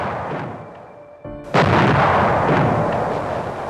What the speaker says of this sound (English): That was the actual sound of the bombing of Pearl Harbor that you were hearing in that episode.